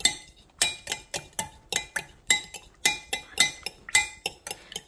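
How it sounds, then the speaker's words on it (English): Spoon stirring eggs, lactose-free milk and pink Himalayan salt in a dish, a quick steady run of light clinks against the dish's sides, close and clear with no talking. "I just stir it, stir it, stir it, stir it"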